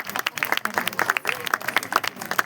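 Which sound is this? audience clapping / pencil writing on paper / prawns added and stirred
audience clapping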